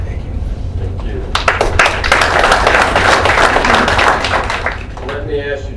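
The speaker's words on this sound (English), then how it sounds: "Let me ask you to please refrain from applauding" An audience applauds at a Fort Myers city council meeting: a burst of loud, dense clapping swells for several seconds, then tapers off as a voice begins.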